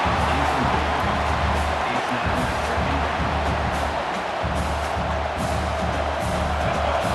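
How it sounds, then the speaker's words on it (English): A stadium crowd in the EA Sports College Football 26 video game roars in a dense, constant wall of noise that holds loud throughout, with an announcer's voice talking over it. "This place is roaring, and it's going to be so hard to operate under these conditions."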